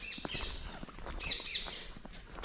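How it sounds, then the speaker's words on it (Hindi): Parrots chirping and calling as they take off at a village dargah by a well, a steady stream of bright tweets and squawks at moderate distance with no talk. "ये उड़ गए तोते उड़ गए"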